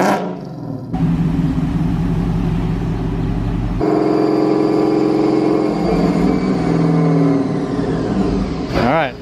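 A modded Ford Mustang GT V8 roars on a dyno with a loud, sustained engine note that climbs as it revs, cuts and comes back even harder partway through, then drops off at the end.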